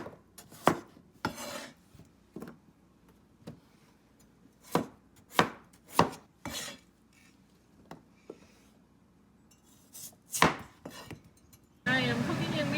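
A knife cuts food into pieces on a board, sharp separate chopping knocks at an uneven pace, close, with a burst of hissing noise at the end.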